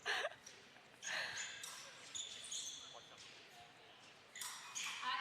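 Épée blades clashing in a women's World Cup semifinal fencing bout in Saint-Maur, France, a few sharp metallic clanks and scrapes heard at moderate distance over quiet hall ambience.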